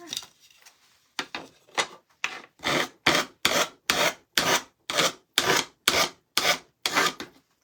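Sandpaper rubbed by hand over a surface in steady back-and-forth strokes, about a dozen close, raspy swipes in an even rhythm with brief gaps between them and no talking.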